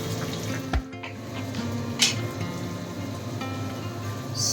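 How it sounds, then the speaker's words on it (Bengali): Onions frying in oil, with a steady soft sizzle and crackle throughout, a few small clatters, and no talking. "পেঁয়াজ হচ্ছে ফ্রাই।"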